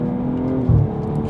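A BMW M440i Gran Coupe's exhaust, tuned with an AC Schnitzer tuning box, drones with a low steady rumble, swelling briefly into a deeper burst midway before settling back.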